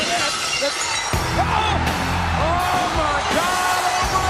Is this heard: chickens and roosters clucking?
no